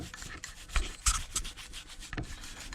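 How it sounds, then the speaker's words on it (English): Sand is scrubbed and scraped out of the coil of a Garrett AT Max metal detector, giving a close, continuous gritty rubbing with a few sharper scratches and no talking. "So what we'll do is we'll clean the sand out of here."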